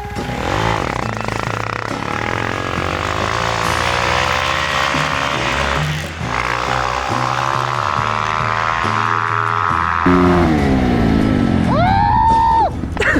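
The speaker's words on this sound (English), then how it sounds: "Dude, he was just redlining." Dirt motorcycle on a sand tire revving hard to redline in deep snow, a loud, strained engine whine rising and falling in long pulls, with voices shouting over it toward the end.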